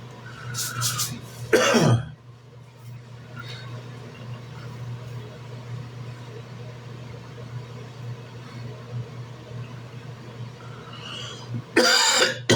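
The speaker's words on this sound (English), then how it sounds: "I'm sorry about the coughing." Two loud, harsh coughing fits, one near the start and one at the end, with a quiet humming room in between.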